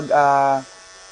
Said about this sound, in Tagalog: vlog habang nag-aahit